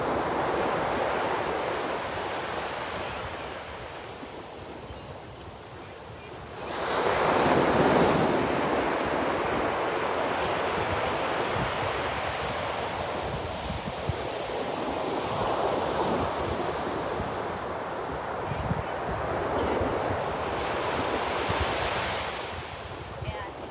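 Ocean surf breaking on a beach with wind buffeting the microphone, a steady broad wash that swells louder around a third of the way in and rises again in later surges, heard alone without voices.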